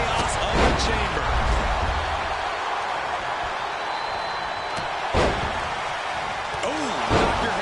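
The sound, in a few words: knee strike impact in WWE 2K25 video game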